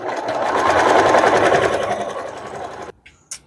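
Sewing machine stitching a straight stitch to tack a face piece onto a handmade fox doll, fast rhythmic mechanical chatter running steadily for about three seconds, then stopping with a few faint clicks.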